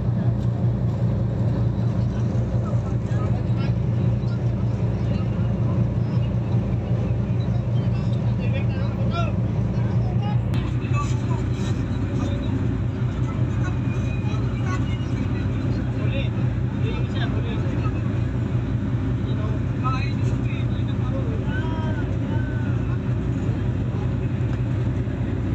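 Boat engine exhaust at Lipata port drones steadily and loudly throughout, a constant low mechanical rumble with voices talking over it.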